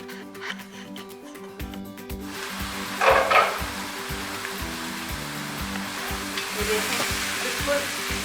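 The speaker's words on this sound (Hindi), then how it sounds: "इनको इतना भूनना है कि प्याज बिल्कुल बीच में मर्ज हो जाएंगे।" Black chickpeas and onions fry together in a pan for a kala chana curry. A loud, steady sizzle and hiss comes with a few bursts of stirring noise and a faint tonal hum underneath, and no one speaks.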